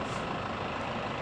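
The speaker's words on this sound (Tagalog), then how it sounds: "Dumadaan lang yung kotse." A car passes by on a street, heard as a steady, loud broadband roar of engine and tire noise that fills the whole moment without a break.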